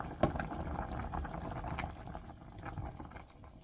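Chicken soup bubbling in a pot, a steady watery churn of simmering liquid with a faint clink near the start, close and fairly quiet.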